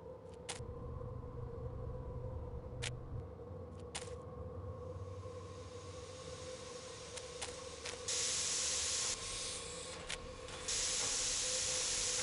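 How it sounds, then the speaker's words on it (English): Steam hisses steadily from a train in the Murder on the Orient Express video game, a constant airy hiss under low rumble, with sharp clicks scattered throughout and louder bursts of spraying steam toward the end. "this must be where the steam is escaping."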